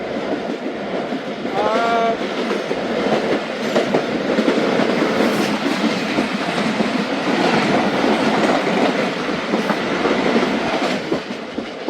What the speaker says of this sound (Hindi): भावलपुर से निकली है ट्रेन